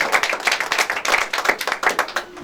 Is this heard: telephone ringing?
no